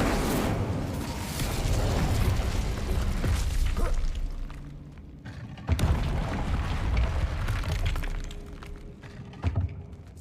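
Incendio fire spell cast in a Harry Potter video game, a dense roaring burst with booming, explosive swells and sharp pops, loud and close, running continuously for about ten seconds.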